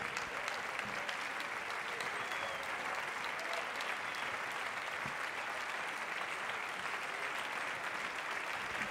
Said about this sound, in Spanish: Un fuerte aplauso para Larner Lewis.